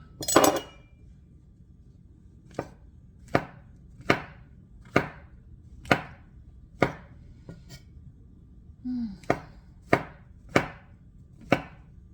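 A knife chops mushrooms for a mushroom and meatball paella, about a dozen sharp, separate strikes on a board at a slow, uneven pace, close and clear with no talking.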